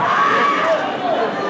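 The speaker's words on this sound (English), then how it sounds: "The crowd's into it." A crowd cheers and shouts at a high school wrestling dual meet between North Point and Hillsboro, a lively roar of voices filling the gym with rising yells.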